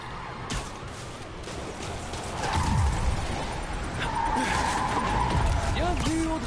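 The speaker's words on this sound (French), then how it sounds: "Hop, alors, la petite voiture." Tires screech as a small car skids in the Spider-Man video game, a loud sweeping squeal rising over steady game engine noise, with a voice talking over it.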